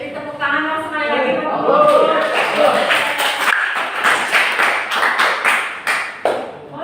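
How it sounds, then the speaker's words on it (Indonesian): An audience at an Indonesian teacher coaching session claps together. A voice comes first, then a burst of dense, close hand clapping that lasts several seconds before easing off. "Jadi tepuk tangan dong sekali lagi"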